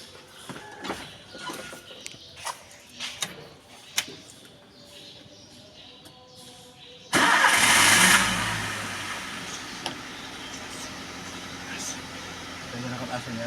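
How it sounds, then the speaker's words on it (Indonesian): A car engine is started during a pre-delivery service procedure at a workshop lift: a sudden loud broadband burst of cranking and catching, then a steady idle hum that settles slightly quieter, preceded by workshop clatter. "hidupkan mesin dan AC."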